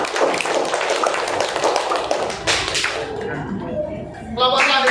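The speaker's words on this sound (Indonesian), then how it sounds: "Beri tepuk tangan buat kelompok 4." A classroom group receives brief applause, a few seconds of dense clapping from a small crowd, with voices mixed in and a short voice near the end.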